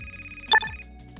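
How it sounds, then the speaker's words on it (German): A telephone in the video game Car Mechanic Simulator 2015 rings, a brief bright electronic chime that sounds once, loud and close, over a quiet background hum. "Hast du dieses Telefonklingeln gehört?"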